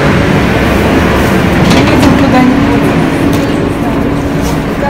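A Moscow metro train car rumbles steadily along, a loud, dense interior roar of wheels and motors with faint rattling throughout, heard from inside the carriage.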